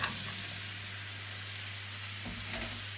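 Potatoes sizzle steadily in a hot frying pan, a constant crackling hiss close by, with a faint stir or clink near the end.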